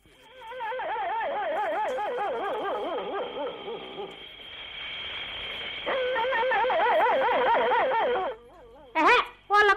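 Dogs make a sound effect in a Telugu radio play, with continuous wavering howls and whimpers that rise and fall, a brief pause, more whining, then a few sharp yips at the end.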